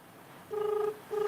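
Phone ringback tones sound on an unanswered call. Two steady, clear electronic bursts, the second starting after a short gap, play alone with no talk.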